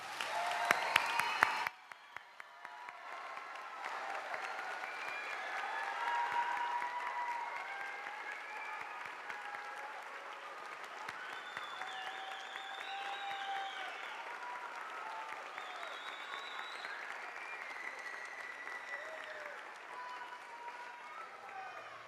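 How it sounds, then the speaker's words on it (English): An audience applauds teachers at an awards ceremony. After a brief loud burst, sustained clapping fills a large hall, steady and moderately distant, while voices and a few cheers rise over it. "Please join me in giving them one more round of applause."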